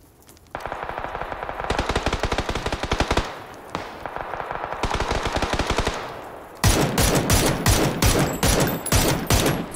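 Rapid automatic gunfire in PUBG, loud sustained bursts separated by short gaps, ending in a denser, harsher volley of close shots.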